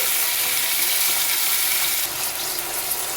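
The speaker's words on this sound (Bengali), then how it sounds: "টমেটোটা একটু ভেজে নিচ্ছি" Tomatoes fry in a pan with tempering spices for red lentil dal, giving a steady, close, loud hiss and sizzle with no talking.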